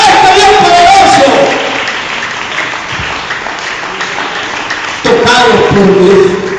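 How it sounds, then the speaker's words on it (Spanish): A church congregation breaks into loud applause and cheering during a sermon, which fades and then swells again near the end, with a preacher's voice mixed in. "Un aplauso para él en esta mañana."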